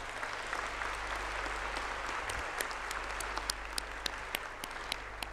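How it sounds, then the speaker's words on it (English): Sustained audience applause at a closing plenary session of a pitch competition honoring the semifinalists, a dense steady wash of many hands clapping with a few sharper individual claps standing out, no talk over it. "let's give everyone who pitched a huge round of applause"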